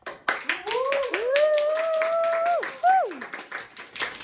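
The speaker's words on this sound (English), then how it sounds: "if you could give Bambi a massive round of applause, please" A crowd gives a round of applause at a sex workers' rights event, scattered claps under loud, sliding whoops and cheering voices.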